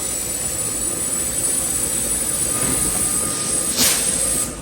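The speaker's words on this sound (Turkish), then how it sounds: "Viyana tren istasyonu" Ambience inside Vienna's main railway station, the Hauptbahnhof, a steady loud wash of hall rumble and machinery hum with a high whine, a brief whoosh near the end, and no clear voices.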